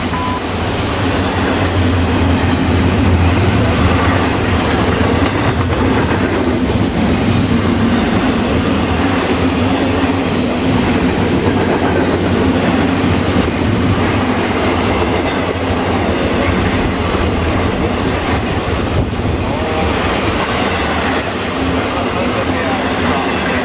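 A Florida East Coast Railway freight train rolls past close by, a loud, continuous rumble with steady clickety-clack from the wheels that holds for the whole stretch.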